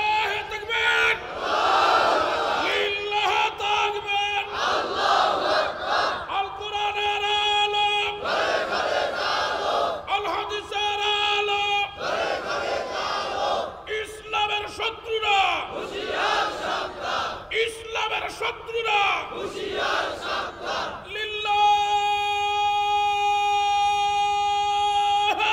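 A crowd roars a takbir again and again in loud, massed bursts separated by short gaps, with a sustained chanted tone ringing out near the end.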